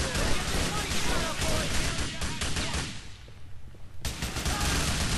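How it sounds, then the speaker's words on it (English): Grand Theft Auto IV firefight: dense, loud volleys of automatic gunfire and shots that dip into a brief lull before resuming, with voices mixed in. "What a firefight."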